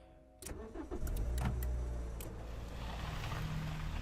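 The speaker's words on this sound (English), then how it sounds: "We got in my truck and I started the engine." A truck engine cranks briefly and catches, then settles into a steady, fairly loud idle rumble, close by with no voices.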